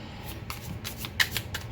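Tarot cards being shuffled up close, a run of quick papery riffles and soft flutters with a sharper snap near the end, no voices.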